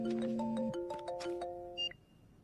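A melodic electronic ringtone plays a short tune of bright tones, ending with a brief high beep; fairly faint, no voices.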